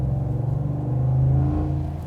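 A 2021 Ford F-150 with the 5.0 engine is revved under throttle while driving, giving a deep, smooth rumble that swells toward the middle and eases slightly, close and continuous.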